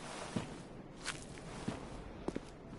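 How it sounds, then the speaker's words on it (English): A few light footfalls sound in Bloodborne's Hemwick Charnel Lane: four or five quiet taps spaced unevenly, one quick pair near the end, set against a hissing, murky background. "Pitter patter of feet."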